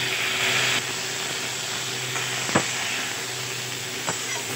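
Drumsticks and eggplant drop into hot oil in a pan and sizzle as a steady, loud hiss, with a couple of brief clicks from a utensil.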